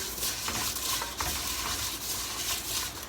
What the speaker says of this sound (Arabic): بحمر الشعريه لما تدي اللون الجولد معانا